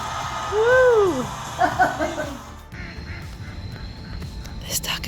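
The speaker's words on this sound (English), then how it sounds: "This duck is laughing at me." A duck gives a loud run of nasal quacks nearby, then a few softer ones follow, with a voice talking over the later part.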